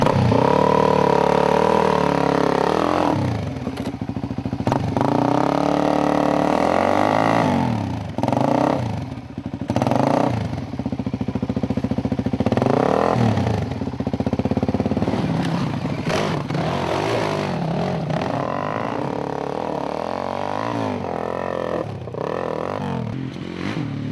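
Trial motorcycles ride a rough trail during the SA 24 hour Reliability Trial: engines rev up and down continuously and close by, with throttle blips, bogging and clattering over uneven ground.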